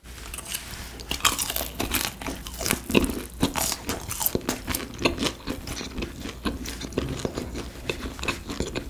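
Biting and chewing crunchy pepper fried chicken coated in brown rice powder and ground black pepper, with dense, close crackling crunches and steady chewing throughout and no talk.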